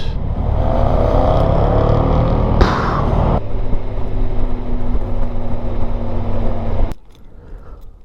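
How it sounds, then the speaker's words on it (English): A car engine runs steadily at close range with a constant low hum and a faint whine, with a brief clatter around a third of the way in, then cuts off abruptly near the end, leaving quiet ambience. "I'm getting very hot air from the engine right now as well"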